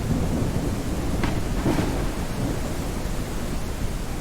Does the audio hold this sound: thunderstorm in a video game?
yes